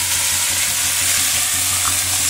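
Shredded cabbage and chopped tomato sizzle steadily in a pan, a dense continuous hiss with faint stirring, close up, no onion or garlic in the mix, and no voices.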